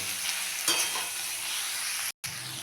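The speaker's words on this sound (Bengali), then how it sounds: "এখন আমি সবগুলো ভালো করে কষিয়ে নেব।" Spices being stirred and fried in a pan for a Bengali parshe fish curry with spring onions, a steady close sizzle with a spoon scraping through, continuous apart from a brief dropout near the end.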